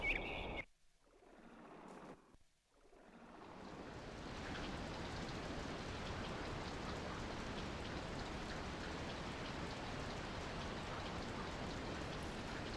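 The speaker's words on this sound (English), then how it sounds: "Well, it's been raining all day." Rain falls in the video game Skies of Arcadia Legends: after a couple of brief quiet gaps at the start, a dense, even downpour settles in and continues steadily.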